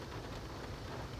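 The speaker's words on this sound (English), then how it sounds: "chilling in the rain in Oxnard" Rain falls in Oxnard as a faint, even hiss of drops, constant and unchanging over the short stretch, with no voices.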